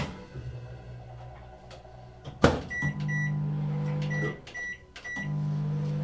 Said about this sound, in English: I'm gonna put this in the microwave to kind of soften them up